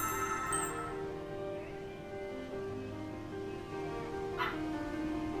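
A dog in the video game Sonic Frontiers gives a few light yips and a short whimper, set among steady tonal game music and ambience at moderate level.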